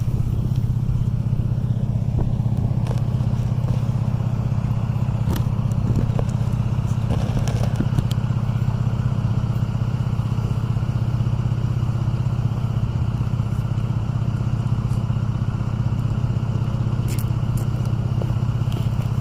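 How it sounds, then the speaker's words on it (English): A Chrysler 300 V6 rumbles steadily through its exhaust for the whole stretch, a loud, close, constant low drone without obvious surges. "I'll rev it up a few times."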